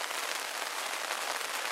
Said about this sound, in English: Here we go. Rain again.